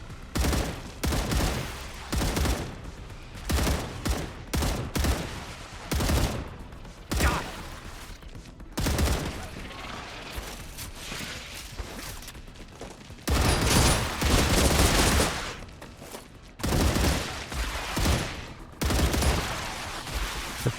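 Rapid, dense gunfire with penetrating bullets from the StarRupture sci-fi game, sustained volleys and bursts crackling almost continuously for about twenty seconds, loud and close, with brief gaps between clusters of shots.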